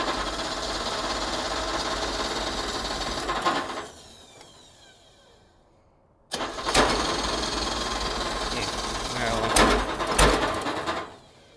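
Ford Pinto Wagon engine running loudly, then dying to a quiet lull before it cranks and catches again and runs on steadily, with brief revs near the end.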